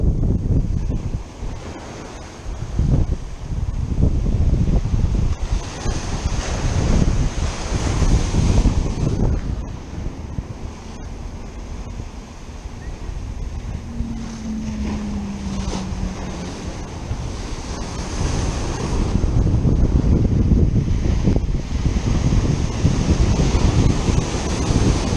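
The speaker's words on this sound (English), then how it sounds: "But we also have big waves coming in." Big ocean waves roll in onto a fishing beach in a steady surf roar, with wind buffeting the microphone and occasional crashing surges throughout.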